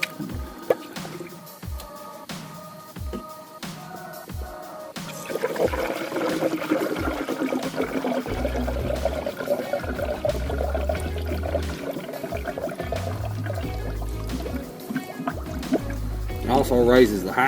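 Coolant is poured into the fill tank of a 2006 Chevy Silverado 5.3 radiator, first as sparse drips, then as a steady trickling pour that runs under continuous talk between people.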